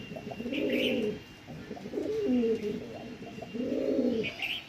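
A pair of red-vein (lal shira) pigeons coos in close, repeated bursts of soft, throaty, rolling calls, with faint chirps between phrases.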